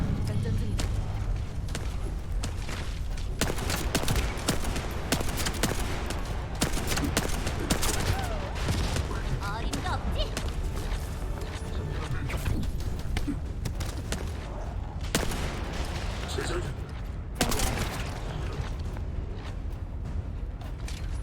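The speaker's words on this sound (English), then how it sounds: "Hand cannons feel pretty good" Hand cannon gunfire in a video game cracks out repeatedly amid dense, loud game action, with sharp shots and bursts over a constant rumbling background while a voice talks over it.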